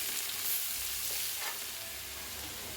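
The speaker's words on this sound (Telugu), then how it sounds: "వేసుకొని మంచిగా కలుపుకోవాలి" Turmeric is stirred into masala frying in a pan for a prawn curry, a soft, continuous sizzle with a faint scrape of the spoon partway through.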